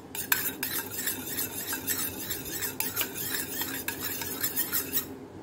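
Homemade hair mask with lemon juice mixed in a bowl, a spoon scraping and clinking in quick repeated strokes, close and steady, ending abruptly.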